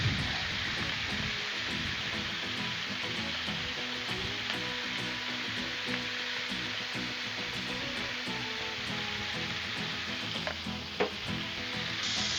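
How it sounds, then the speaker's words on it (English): Ground hamburger and onions sizzling in bacon grease on a Blackstone flat-top griddle, a loud, dense, continuous hiss that holds steady throughout, with a couple of brief clinks near the end. "I threw that hamburger and onion down in that bacon grease"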